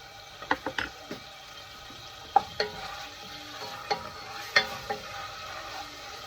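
A spoon stirs Sri Lankan chicken curry spices, garlic-ginger paste and chili powder in a frying pan, with sharp scraping clicks at an irregular pace over a faint sizzle.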